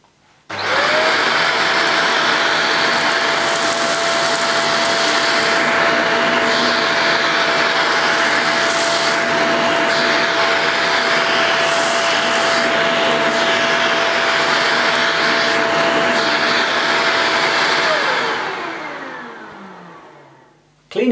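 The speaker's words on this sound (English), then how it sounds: "So I'll tackle the rest of this using the dust away attachment." A Shark Powered Lift Away upright vacuum cleaner, fitted with its dust-away attachment, runs at a loud, close, steady whine for about seventeen seconds. The motor then winds down, its pitch dropping as it fades to a stop.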